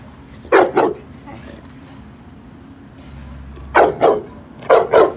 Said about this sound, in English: Rebelde, no barking at Tom.